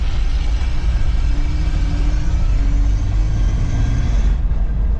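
Ford Explorer with a rebuilt M5OD-R1 gearbox cruising steadily in fifth gear, a loud continuous engine and road drone with low rumble that holds level throughout, no voices.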